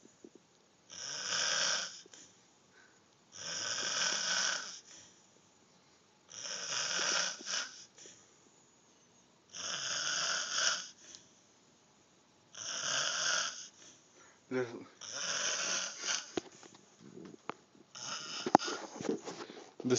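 A man snores loudly after drinking alcohol, giving seven long, rasping snores in a steady rhythm with short silent gaps between them. No one talks.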